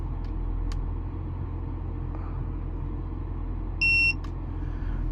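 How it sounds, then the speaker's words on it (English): A single electronic beep with a clear tone from a TST-507 RV tire pressure monitor, lasting about a third of a second, sounds over a steady low engine rumble. "Press and hold set until it beeps."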